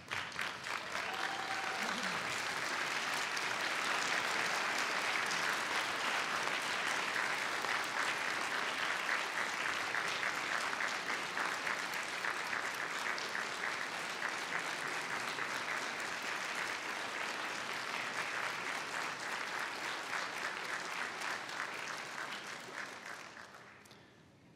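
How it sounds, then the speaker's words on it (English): A round of applause from the audience for graduates' families at a college conferring ceremony, a broad, sustained roar of many hands clapping that holds for over twenty seconds before fading out at the end. "give those families a well-deserved round of applause"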